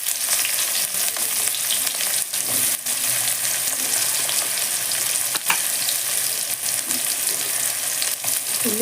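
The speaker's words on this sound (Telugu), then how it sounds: "ఉల్లిపాయ మంచిగా వేయించుకోవాలి" Onions and cumin seeds frying in hot oil, a loud continuous crackling sizzle close by, with a few brief stirring scrapes.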